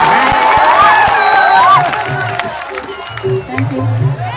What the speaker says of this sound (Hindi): एक जोरदार ताली तो बनती है रे पगला